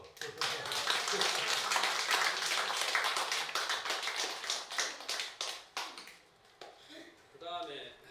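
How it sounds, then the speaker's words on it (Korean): Audience clapping at a Buddha's Birthday ceremony at Wongaksa temple in Yangsan, a dense burst of hand claps that thins into scattered claps before fading, with voices mixed in. "박수 한번 더."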